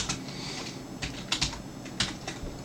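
Light, irregular keystrokes tap on a computer keyboard, a few sharper clicks standing out, close and quiet.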